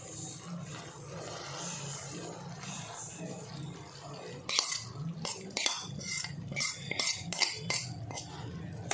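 A spoon scraping and clinking against a pan while boondi laddu mixture is stirred, starting with a low steady background and turning into a run of irregular metallic knocks and scrapes, close by.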